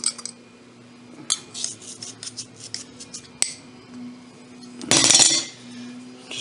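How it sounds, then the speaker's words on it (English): Scattered clinks and scrapes of a utensil against a bowl while sugar is stirred into muffin batter, with quiet gaps between strokes and a louder clatter near the end. "Just gonna real quick stir that in."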